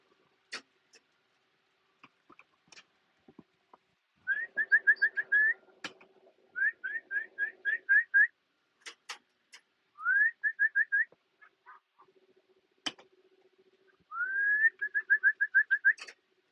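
Birds in a loft being redone amid nearby construction give soft, low, repeated cooing, while short bright whistled trills come in bursts alongside scattered clicks and knocks.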